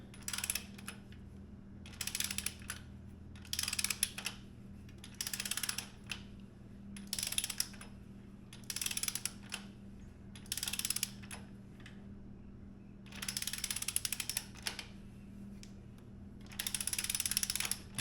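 A ratchet wrench tightens the frame slider bolts on a 2023 Yamaha MT-10, giving repeated short bursts of rapid clicking in a steady rhythm with brief pauses between strokes, close but fairly quiet over a low background hum.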